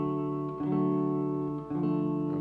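A guitar sounding a major-third harmony, two sustained notes ringing together, then changing to a new pair of notes, smooth and clear with no talking.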